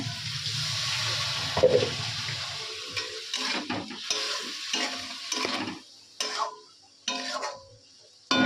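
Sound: pouring a little water into a cooking pot

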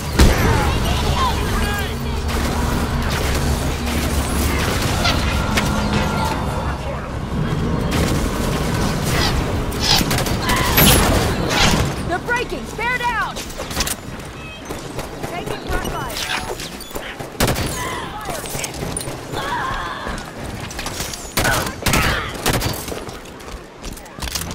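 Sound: gunfire in a battle, from the Halo video game

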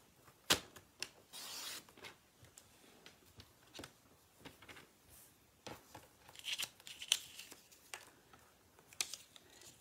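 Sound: scissors cutting paper strips

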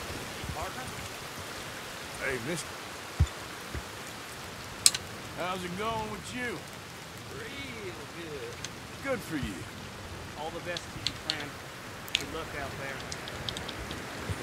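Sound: heavy rain in video game Red Dead Redemption 2

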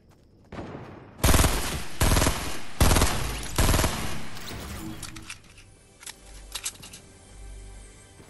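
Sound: gunfire in the video game Fortnite

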